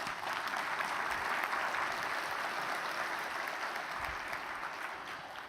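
An audience at a First Amendment and communities forum in Pittsburgh gives a steady round of applause. The clapping is dense and sustained throughout and tapers slightly toward the end.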